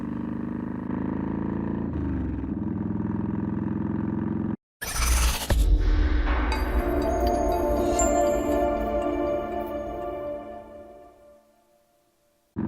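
A Yamaha Warrior 1700 motorcycle with Cobra Long Shots exhausts rumbles loudly and close, drops out briefly, then revs and pulls away with rising engine tones that fade off into the distance.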